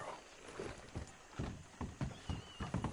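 A horse in Red Dead Redemption 2 trotting with a steady clip-clop of hooves and a short whinny near the start, moderately quiet and close.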